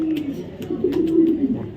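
A moulting light-coloured racing pigeon, raced with the BRPOA club, coos in deep, throbbing phrases that swell and roll for nearly two seconds, close and clear.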